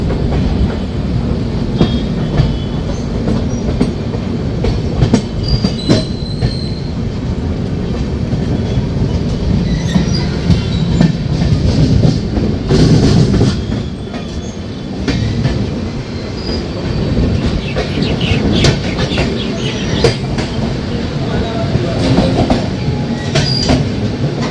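Kolkata–Jaynagar 13135 express running on rails near Bandel Junction: a loud, continuous rolling rumble with wheel clatter and intermittent metallic squeals, steady for the whole stretch with no voices.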